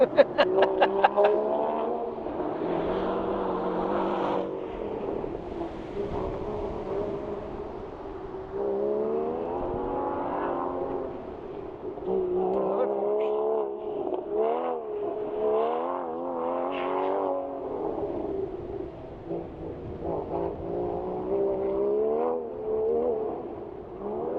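A loud Porsche sports car engine revs repeatedly outdoors near a mall, with several rising and falling surges in pitch over about twenty-four seconds.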